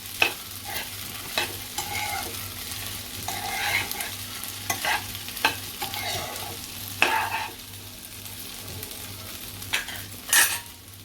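Sabudana khichdi being stirred and fried in a pan over medium heat: soft continuous sizzling with repeated scraping strokes of a spoon against the pan, close and steady, with no talk.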